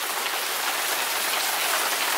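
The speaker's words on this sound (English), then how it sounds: "I don't even know if you can see all the rain" Rain falls steadily outdoors onto a yard and nearby surfaces, a dense, even hiss of drops with no talking.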